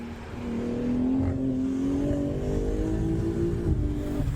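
A BMW M4 G82 driving on the Nürburgring Nordschleife, its engine a steady strong drone with a rising tonal whine, held at constant revs for a few seconds before a brief shift near the end.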